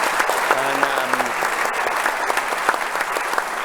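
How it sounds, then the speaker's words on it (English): An audience at a capital markets development panel applauds a speaker, a dense burst of clapping that carries on steadily, with a brief voice heard over it. "So please give an applause to Solange"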